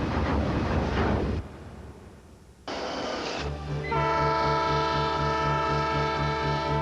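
The old steam train Spirit of Oregon, heard as a burst of rumbling running noise, a quieter stretch, then a long sustained whistle with steady tones that carries to the end.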